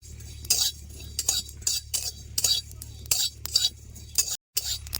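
Cumin seeds toasting in a wok over a village clay stove, heard as repeated scraping and clinking of a metal spoon stirring against the pan, close and intermittent, with faint crackle underneath.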